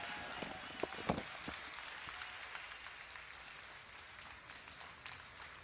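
A crowd at the BlizzCon 2010 StarCraft II grand finals claps in a dense, steady patter that starts with a few louder hits, heard from a distance and gradually thinning out.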